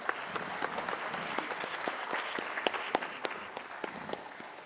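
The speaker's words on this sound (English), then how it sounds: "Please clap for them." Audience at a national pharmacology conference applauding the fourth-place team, steady moderate clapping from a crowd with a few sharper individual claps standing out.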